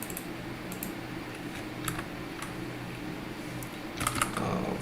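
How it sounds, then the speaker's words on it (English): Quiet clicks of typing on a computer keyboard, sparse keystrokes in short clusters over a steady background hiss, growing a bit busier near the end. "let me just type it here"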